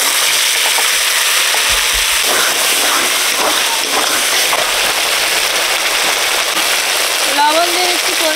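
Ground spice paste sizzles loudly and steadily in fish oil mixed with a little extra oil, cooked for a catfish curry. The frying is close and continuous, with occasional stirring scrapes and a faint voice behind it.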